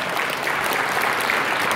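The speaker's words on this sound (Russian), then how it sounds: "ваши аплодисменты." Audience applause at an award ceremony, a steady, dense wash of clapping that fills the whole moment at even loudness with no voices over it.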